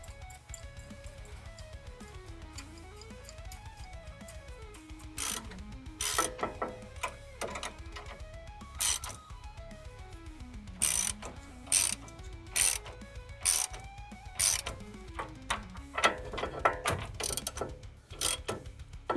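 A ratchet tightens the nuts on a tie rod tool on a Toyota 4Runner, with rapid clicking pawl bursts and sharper metallic clacks that come in irregular spurts, close and fairly loud, growing busier toward the end.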